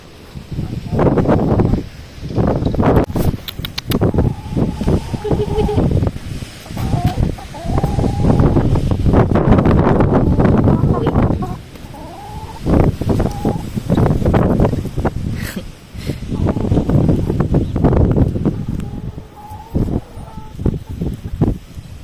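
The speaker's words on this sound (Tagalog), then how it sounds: "Grabing hangin." Strong wind in France buffets the microphone in loud, gusting bursts, with rustling and occasional clucking of chickens in the background.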